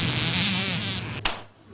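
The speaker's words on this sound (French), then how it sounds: "une invasion de milliers de mouches attirées par une exploitation de volailles toute proche" Thousands of flies swarm in a French village near a poultry farm, making a dense, continuous close buzz that holds steady throughout, broken once by a brief sharp tap near the end.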